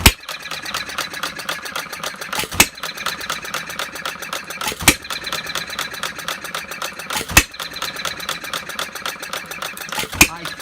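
Half-scale Breisch Olds hit-and-miss gas model engine running, rapid mechanical clatter and exhaust puffing punctuated by sharp firing bangs roughly every two to three seconds, close and loud.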